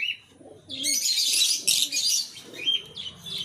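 A pet Fischer's lutino lovebird is released, giving bright chirps over a burst of close wing flapping, then a few scattered calls, with no voices.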